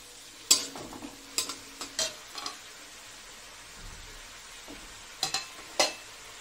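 Drumstick, potato and eggplant curry being sautéed in a pan, with scattered sharp scraping and stirring knocks of a spatula over a faint, steady sizzle, several spaced bursts close by and no talking.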